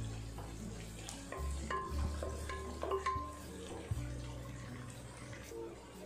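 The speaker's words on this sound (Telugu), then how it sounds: "రెండు ఉల్లిపాయ ముక్కలు ఫ్రై అవుతున్నప్పుడు పొడుగ్గా చీల్చి పెట్టుకుని ఒక 5 పచ్చిమిరపకాయలు వేసుకోవాలి।" Sliced onions, green chillies and curry leaves fry in a pan for a raw mango fish curry, a steady soft sizzle with occasional stirring scrapes under a low background hum.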